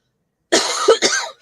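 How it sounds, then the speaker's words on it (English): A person coughs twice in close succession, near and fairly loud, a rough throaty burst followed by a second one, with no speech around it. "a bit of a cough still"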